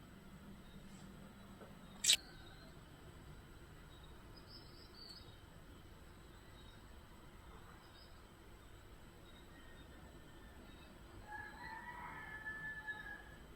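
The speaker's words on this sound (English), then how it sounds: "can you hear that? Can you hear roosters?" A rooster crows outside, faint and distant: a single drawn-out crow near the end over a quiet room, with one sharp click earlier.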